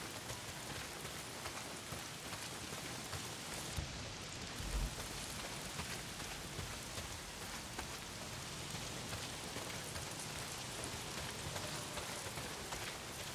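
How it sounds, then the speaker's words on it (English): Heavy rain pours down steadily in the Days Gone video game, a dense, unbroken hiss of drops on surfaces that stays loud and constant throughout with no one speaking. "Well, not if it's pissing down rain."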